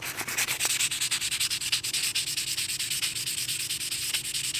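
Steady rhythmic sandpaper strokes scrubbing a chrome fender badge on a 2015-2017 Ford F-150, a close, continuous rasping back-and-forth with no talking.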